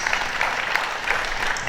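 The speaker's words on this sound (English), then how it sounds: "A round of applause for her" Audience applause at a Code of Conduct Bureau seminar in Abeokuta, a dense steady patter of clapping throughout the short stretch, moderately loud with no voice on top.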